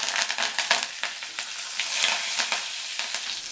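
Curry leaves hit hot oil already crackling with cumin and dried red chilies for a tomato kootu, giving a steady, close sizzle broken by sharp popping spatters throughout.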